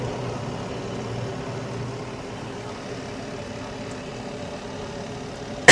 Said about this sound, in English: So now the blower has come back on, so now it's obviously pushing the warm air throughout the house